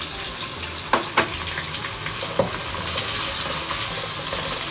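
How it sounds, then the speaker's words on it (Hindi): Onions and a little ginger frying in a pan for a chickpea-lentil and bottle gourd dal, a steady close sizzle with a few sharp clinks of a spoon early on, the frying growing slightly louder toward the end; no talking. "प्याज के साथ में थोड़ा सा जो अदरक है ये भी डाल दूँगी"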